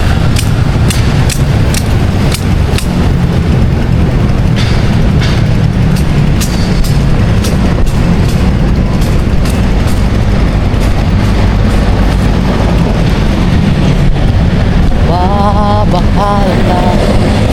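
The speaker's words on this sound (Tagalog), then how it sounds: "Hangin dyan diri karon." Wind blowing outdoors in Cebu's IT Park, a loud, constant low roar buffeting the microphone for the whole stretch, with faint clicks and distant city sounds beneath.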